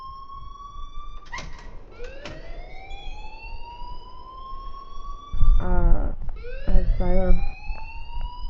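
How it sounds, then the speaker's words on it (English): Alarm in the video game Life is Strange, a rising, wailing siren-like tone that sweeps upward repeatedly, with a louder clattering, pulsing burst midway and a voice talking briefly. "please turn off that alarm since that's your job"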